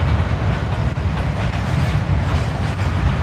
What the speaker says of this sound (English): This is 351 reversing back into the yard, the front half of his train